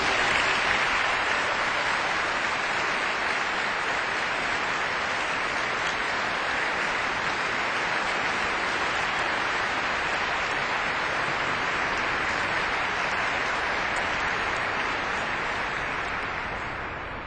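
Congregation applauding Notre-Dame choir school singers during a Pentecost Mass in a church, a long dense sustained clapping that fills the reverberant space before slowly fading at the end.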